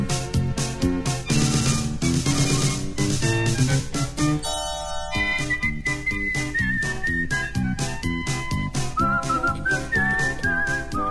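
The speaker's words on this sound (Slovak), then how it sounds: "Ďalej sa píska." A person whistles a bright melody over busy music in a Slovak children's story sequence. The whistled tune comes in clear, wavering high notes through the second half.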